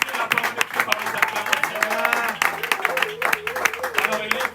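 A church congregation applauds and cheers loudly in a dense, continuous wave of clapping and voices, while a preacher speaks over the noise.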